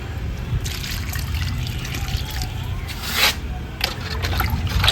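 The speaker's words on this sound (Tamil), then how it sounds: "ஃபுல்லாக தண்ணி ஊற்றி விட்ருவோம்" Water poured from a can or hose into a garden plant pot while checking drainage, a steady trickling, splashing flow running for several seconds with a brief louder gush near the middle, close and alone.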